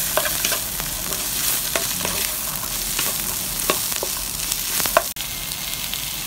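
Garlic scapes stir-frying in a wok with tomato sauce, a continuous dense sizzle with frequent spatula clacks and scrapes at an even pace.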